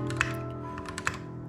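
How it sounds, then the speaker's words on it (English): Keys clack softly on a Keychron Q5 mechanical keyboard, an aluminum full-size board, with a few deep, woody taps spread across the stretch under a faint steady hum. "the typing on the keyboard right out of the box, unaltered, was buttery smooth, luxurious, with really woody, deep, clunky sounds"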